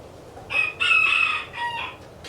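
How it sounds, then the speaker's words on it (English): A rooster crows inside a woodshop, loud and close, in two drawn-out bursts with a shorter final call and no talk over it. "There's a chicken in my shop."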